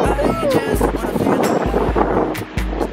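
Strong wind at a seaside beach buffets the microphone, producing heavy low rumbling gusts and blustery noise throughout.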